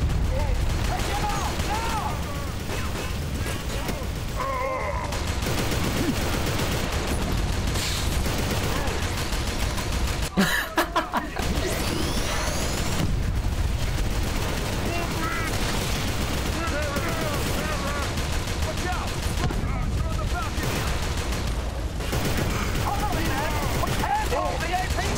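Gunfire in the co-op shooter Inversion, aimed at an APC in city streets, with dense, continuous bursts and booms throughout, one sharp blast cluster midway, and players talking over the constant shooting.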